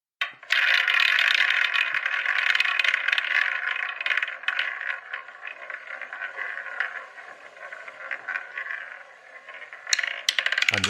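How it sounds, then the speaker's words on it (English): A quiz prize wheel spins with a dense clattering, ticking rattle that starts loud and gradually thins and slows before a final clunk near the end. "let's spin the wheel."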